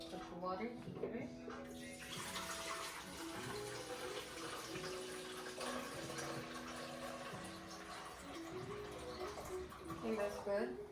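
Water from a tap runs and splashes into the reservoir of a small $50 espresso machine in a home kitchen, a steady trickle behind clinking and handling noises, with a person talking over it.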